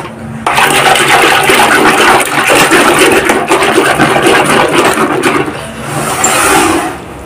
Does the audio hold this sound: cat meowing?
no